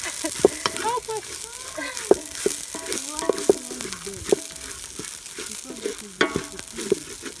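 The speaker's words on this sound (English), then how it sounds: "I want you to hear the sizzle of the fish." Fish sizzle steadily in hot oil, with crackling pops and occasional clinks and scrapes of a utensil, close up.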